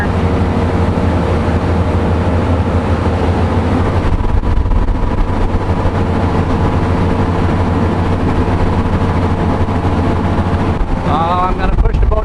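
A MerCruiser motorboat engine with a surging fault hums steadily under a constant roar of wind and water, with a faint chirp of other sound near the end.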